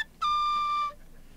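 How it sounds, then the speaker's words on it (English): A banshee summoning whistle, a pub game prize in the Nancy Drew game The Haunting of Castle Malloy, blows one clear, steady, high note for just under a second. The note starts with a small upward swoop and sounds close, alone and with no talk. "I think it's a banshee summoning whistle."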